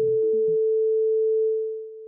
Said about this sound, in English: Take a listen to this sine wave at 440 hertz.